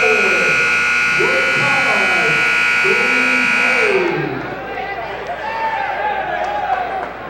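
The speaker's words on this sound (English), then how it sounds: "the buzzer works, Voge." A loud, sustained electronic buzzer drones for several seconds over a noisy arena crowd and commentary, then cuts off.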